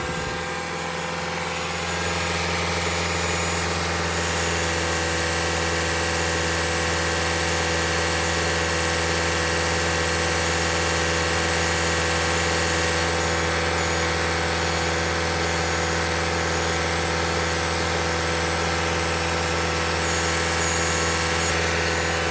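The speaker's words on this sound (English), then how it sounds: "Our fan just kicked on for the first time." Toyota Camry Hybrid sitting still with its engine running and the cooling fan spinning, a steady continuous hum and whir with a low drone underneath, close and unchanging throughout.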